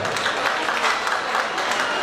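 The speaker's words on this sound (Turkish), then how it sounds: "Bir alkışlar olsun öncelikle." Wedding guests at a Turkmen celebration applaud the dancers, a dense, continuous roar of many hands clapping at close range with no pauses.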